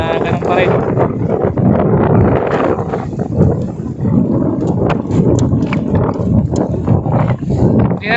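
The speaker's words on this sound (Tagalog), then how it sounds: "may malakas ang hangin" Strong, steady wind roars across the microphone on a fishing boat at sea with its engine off, with a dense rumbling buffeting and faint knocking underneath, loud and unbroken.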